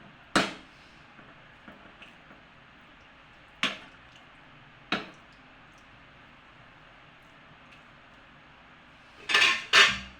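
Kovla bhaji being mixed with lemon juice in a pan, with a few sharp metallic clinks of a utensil against the pan spaced apart and a louder clattering pair near the end, otherwise quiet.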